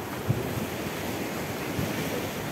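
Constant rushing surf and churning water of a strong sea current at a beach, not yet low tide, with wind buffeting the microphone, no voices.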